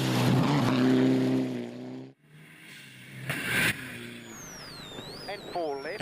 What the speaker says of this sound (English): You can just hear it leaking boost.